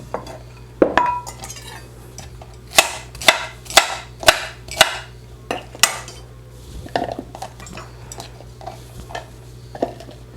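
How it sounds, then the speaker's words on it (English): Knife chopping cauliflower on a cutting board, a series of sharp close knocks in an uneven rhythm, clustered in the middle with a few scattered strikes, over a low steady hum and no talking. "we'll just keep chopping until we get there"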